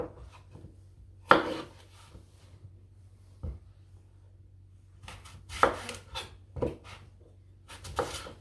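A sharp knife chopping Granny Smith apples on a board, several irregular crisp cuts with quiet gaps between and a brief cluster of quick chops near the end, close and clear without talk.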